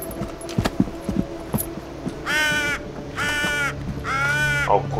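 A crow in a video game caws three times in drawn-out, raspy calls. A few scattered clicks and knocks come before it over a low background hum.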